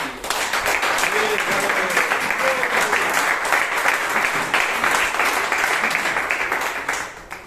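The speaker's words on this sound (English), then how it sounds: "Please give a big round of applause to Arana." Sustained audience applause at a Toastmasters club meeting in Bangalore, dense and steady for several seconds before tapering off at the end.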